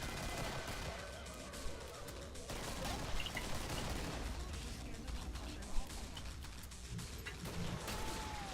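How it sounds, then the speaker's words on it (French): Gunfire in the video game Killing Floor, a busy stretch of shots and mechanical clatter under steady game noise, mostly moderate with a few sharper bursts. "là, je tire sans viser parce que je suis un peu habitué"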